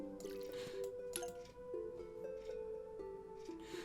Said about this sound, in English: So I'm actually going to water these plants for a little bit because we get a nice chunk of money from it.